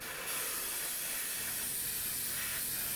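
A steady, close hiss of an aerosol or airbrush spray painting an Airfix Sabre model kit, continuous and even throughout with no pauses.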